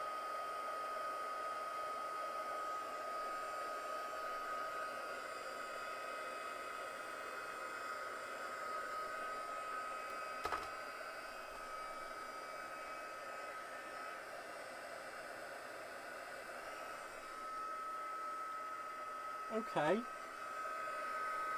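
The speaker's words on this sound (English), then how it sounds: "I do just need to dry it first though, so I will use my heat setting tool." A heat setting tool blows steadily and continuously to dry alcohol ink, a constant whooshing roar throughout, with a brief spoken word near the start.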